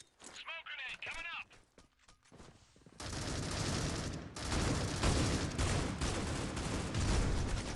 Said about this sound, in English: Access also picking up kill there with the AUG in hand.